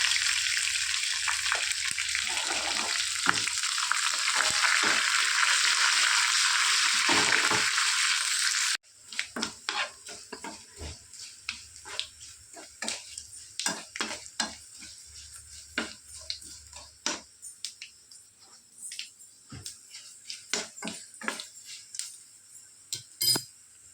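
Mustard seeds, garlic and curry leaves sizzle in hot sesame oil for a Mangalorean lemon pickle, a loud steady hiss that cuts off abruptly and gives way to scattered clinks and crackles, with no voices.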